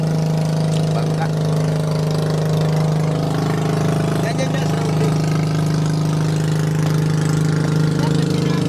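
A boat engine runs at sea with a steady, droning low hum and layered harmonics that hold constant throughout, while people talk casually over it.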